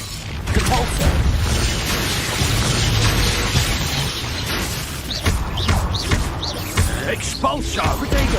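Repeated magical spell impacts from Hogwarts Legacy, including the Depulso force blast, go off as booming bursts and crashes in a busy combat mix with several sharp hits spaced across the stretch.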